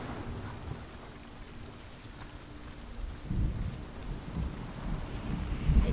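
Steady rain hisses across the dark world of the video game Hellblade: Senua's Sacrifice, with low rumbling gusts that swell and thicken in the second half; no voices.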